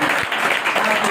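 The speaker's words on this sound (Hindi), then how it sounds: "तो ताली बजाकर" Congregation in a church clapping together in steady, loud applause, a dense burst heard close and alone.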